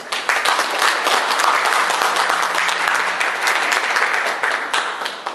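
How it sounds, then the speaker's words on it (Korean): A crowd at a university academic conference applauding, dense steady clapping from many hands that holds for several seconds, then begins to fade. "큰 박수로."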